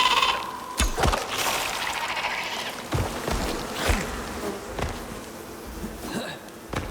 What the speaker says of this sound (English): Come on, bees, let's go.